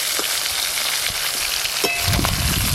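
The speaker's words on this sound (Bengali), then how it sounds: "যা মাছ আছে এগুলো একবারেই সব ভেজে নেব।" Pangas fish pieces frying in hot oil in a pan, a loud steady crackling sizzle throughout, with a deeper bubbling burst near the end and no voices.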